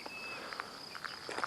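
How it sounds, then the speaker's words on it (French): Soft, steady insect chirring with a thin high tone, faint clicks scattered through it, like crickets outdoors at a distance. "Juste des grillons."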